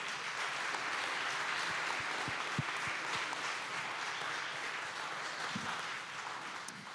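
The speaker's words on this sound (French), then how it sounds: "Applaudissez-le." Audience applause fills a conference hall as a speaker is called to the stage, a dense steady wash of clapping with a few sharper individual claps standing out, moderately distant and even throughout.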